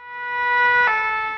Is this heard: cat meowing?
no